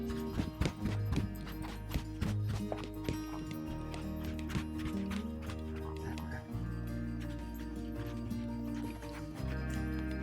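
Hooves of a ridden horse moving forward through walk, trot and canter transitions, with rhythmic clip-clop strikes running steadily throughout against a low rumble.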